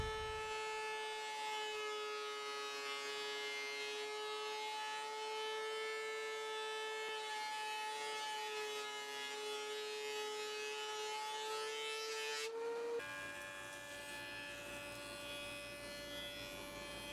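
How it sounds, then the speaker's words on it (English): A planer cleans up the other side of a wooden tabletop, a steady loud machine drone with a constant high whine that shifts pitch abruptly near the end as the board passes through, with no talk. "just throwing it back into the planer to get the other side cleaned"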